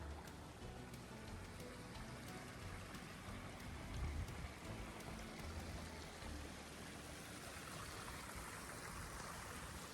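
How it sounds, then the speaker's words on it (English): A small stream of flowing water on the Appalachian Trail, a steady broadband trickle and rush that stays fairly even throughout, close by and continuous with no voices. "we do have this nice little flowing water back here."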